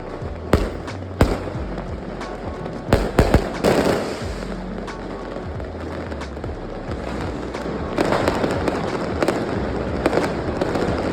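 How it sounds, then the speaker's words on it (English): Fireworks bursting in Italy in a rapid series of sharp cracks and booms, some close and loud, with crackling and fizzing between the bangs. "there will be like 6 fireworks shows around your home. It will sound like a freaking explosion."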